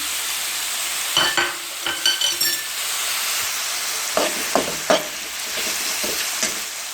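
Spices with chopped green chilies and dried coriander frying in a pan for baingan bhujia, a steady close sizzle broken by scattered scraping clinks of a spoon stirring against the pan.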